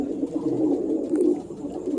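Low, steady cooing from pigeons kept by a fancier, close and continuous over a faint background hum, with no talking.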